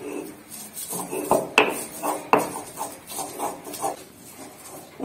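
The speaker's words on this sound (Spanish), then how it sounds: "lo primero que voy a moler es el ajo y la cebolla" Garlic and onion with salt ground in a stone molcajete, a series of gritty scraping and knocking strokes with a few sharper clacks, close and fairly loud, no talking.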